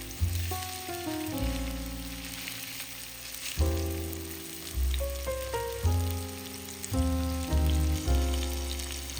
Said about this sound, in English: once the oil has been nicely heated and it's slightly smoking, go ahead and add your salmon fillets in